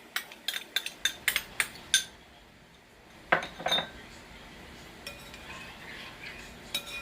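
A spoon clinks and scrapes rhythmically against a bowl while stirring sloppy joe sauce with regular mustard and brown sugar, a quick run of sharp taps followed by softer, scattered stirring clinks, close and clear with no talking.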